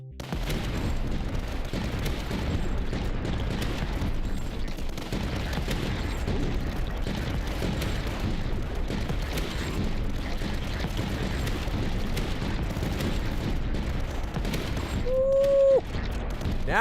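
Continuous dense rumbling of mortar explosions and gunfire in the tower-defense game Tower Dominion, a steady loud barrage throughout with no distinct gaps and a brief tonal chirp near the end.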